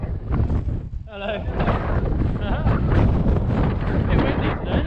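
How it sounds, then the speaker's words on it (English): Strong wind buffets the microphone outdoors on a unicycle trip, making a constant loud rumbling roar with gusty swells. A voice briefly cuts through the noise. "Bit windy today, isn't it?"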